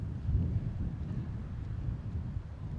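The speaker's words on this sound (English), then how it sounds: "It is gusty. It is windy." Gusty wind buffeting the microphone on a disc golf course, low rumbling blustery noise, fairly faint and steady with slight surges.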